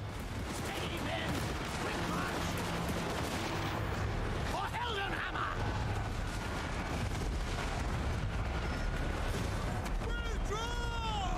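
Dense, continuous battlefield gunfire from units in Total War: Warhammer 2 rolls on as a steady crackling, rumbling barrage with no pauses, while a voice talks faintly underneath.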